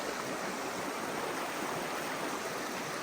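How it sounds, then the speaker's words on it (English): River flowing steadily in the rain along a trout stream, a dense, even wash of rushing water and rainfall, close and continuous with no voices. "It's just me and the river and the rain"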